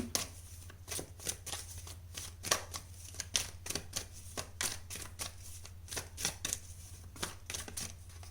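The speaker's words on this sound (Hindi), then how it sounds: "सबसे पहले आपके पास्ट के लिए कार्ड्स निकालते हैं, ग्रुप नंबर 2" Tarot cards are shuffled and drawn for a pick-a-card reading, giving a steady run of crisp papery riffles and snaps up close over a low constant hum, with no talking.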